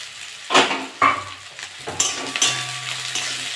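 Onion and green chillies frying in hot mustard oil give a close, crackling sizzle, broken by several sharp clanks and scrapes of a metal spoon against the pan. No one talks.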